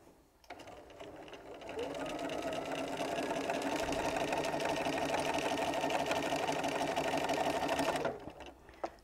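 Sewing machine stitching across a pressed line on jelly roll quilt strips, a fast steady mechanical whir that starts abruptly, runs evenly for several seconds close by, then stops.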